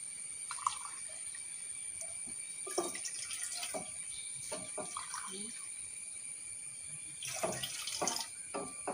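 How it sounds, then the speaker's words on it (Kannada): About two glasses of water are poured into a pot on a stove while making masala tea, heard as intermittent splashing bursts against a faint background hum. "ಇವಾಗ ಇದಕ್ಕೆ ನಾನು 2 ಲೋಟ ಆಗುವಷ್ಟು ನೀರನ್ನು ಹಾಕಿಳ್ತಿದ್ದೇನೆ."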